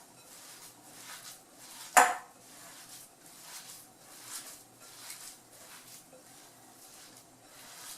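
Breadcrumb and zucchini stuffing is stirred in a bowl, with soft rhythmic scraping repeating at a steady pace and a single sharp clink of a utensil against the bowl near the start; everything stays quiet and close.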